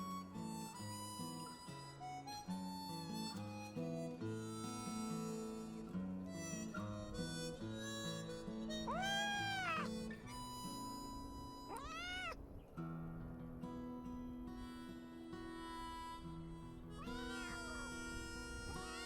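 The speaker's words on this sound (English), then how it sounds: "I heard something as I got closer. Gee, a kitten." A small kitten meows in high, rising cries, heard several times over a busy film soundtrack of music in a remote house near the mountains.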